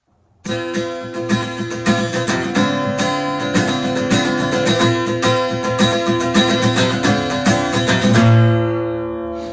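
An electric guitar chugs through the intro of a song, a loud, dense run of strummed and muted chords in a driving rhythm, ending on a ringing chord, with no talk.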